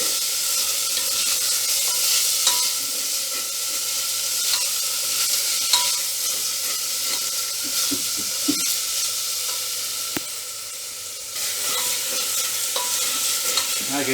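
Salted quinoa and lentil pulao being stirred in a pan, a steady close sizzle with repeated soft scrapes and clicks of the spoon throughout.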